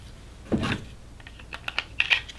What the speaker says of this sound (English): our last step is going to be to put the gun back together. Barrel goes in first. Recoil spring